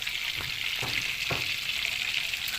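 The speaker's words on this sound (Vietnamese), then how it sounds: "món vịt chiên giòn nha" Muscovy duck crisp-frying in hot oil, a steady loud sizzle with a few soft stirring knocks, no voices.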